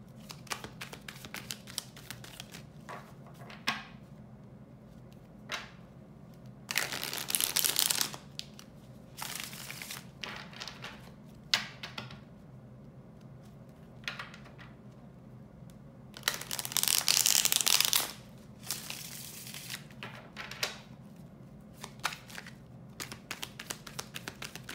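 Tarot cards are shuffled and drawn for a Celtic cross spread: two longer bursts of riffling, with scattered soft taps and card clicks between them, close and quiet.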